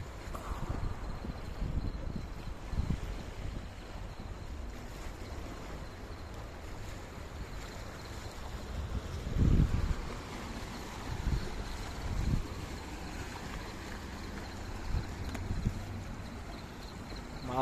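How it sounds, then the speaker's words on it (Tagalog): Rough sea on a fishing trip off Kuwait, with steady wave wash and wind noise alongside a boat hull, broken by a few heavier thumps of water slapping. "Maalon pa rin."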